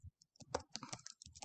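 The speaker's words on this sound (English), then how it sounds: "So now I can type stuff in here." Typing on a computer keyboard while writing a short Python program, with quick bursts of close, crisp key clicks separated by brief pauses.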